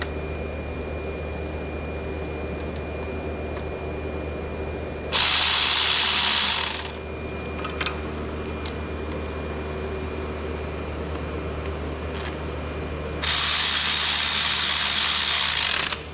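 A ratchet turns the bolts down on a Dodge Grand Caravan oil filter housing, starting with a 13mm bolt. It comes in two loud, close bursts of rapid clicking separated by quieter shop background.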